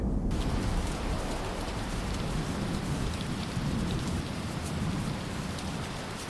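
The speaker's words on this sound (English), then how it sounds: "Rain hammered the red earth." Heavy rain pours steadily and loudly, a dense continuous hiss of drops pounding a surface with no pauses or voices.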